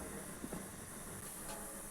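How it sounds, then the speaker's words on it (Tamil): Water boiling under a steamer of wheat flour kozhukattai, a steady close hiss of steam with faint bubbling throughout and no voices. "தண்ணி வச்சுருக்கேன், நல்லா கொதிக்குது"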